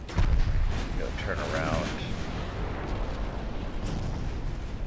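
Naval guns fire in the warship battle game Ultimate Admiral Dreadnoughts, a heavy boom opening into a rolling rumble of gunfire, with someone talking over it.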